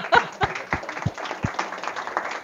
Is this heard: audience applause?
yes